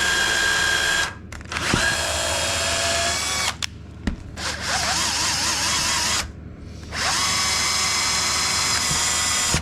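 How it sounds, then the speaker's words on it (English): A power drill whines steadily in long bursts as it drills holes in wood, stopping briefly three times before starting up again, loud and close. "So I'm going to drill a hole there, bolt that into there"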